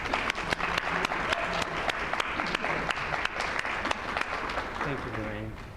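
An audience at an evening lecture on Parkinson's disease claps to welcome the speaker, dense and sustained applause filling the room for several seconds before fading.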